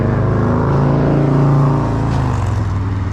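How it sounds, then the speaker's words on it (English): Loud, continuous road traffic rumble in downtown Owego, New York, with a vehicle engine swelling as it passes close by. "all the noisy traffic"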